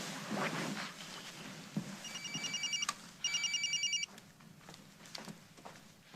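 A cell phone rings with two bursts of an electronic trill, fairly quiet under room tone and faint background noise, with no one talking during it.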